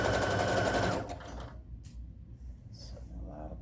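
Sewing machine stitching a garment, a fast loud mechanical whir for about a second before stopping, followed by quieter handling noises.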